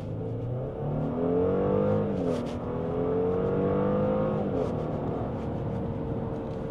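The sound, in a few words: car engine revving while accelerating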